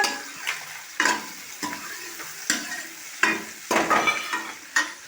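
Onions and long green chillies frying in a pan, with a steady sizzle broken by repeated scraping stir strokes at irregular intervals, close and fairly loud, no voices.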